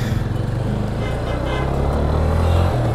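A Yamaha FZ25 250cc motorcycle rides off with a steady, loud low engine rumble that holds close throughout, with no talk over it.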